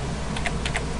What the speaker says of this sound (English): press M on your keyboard